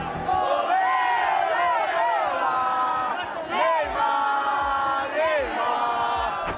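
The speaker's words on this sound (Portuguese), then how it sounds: "A torcida perdeu a paciência e começou a pedir Neymar" A large crowd of Brazilian football fans chants in unison for Neymar, a loud, sustained sing-song roar with rising and falling pitch, dense and continuous throughout.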